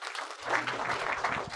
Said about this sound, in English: I ask you to clap your hand to receive my friend Guilherme Tong